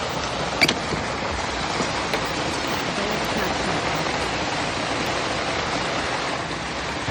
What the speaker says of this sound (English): Oh man, it's hail.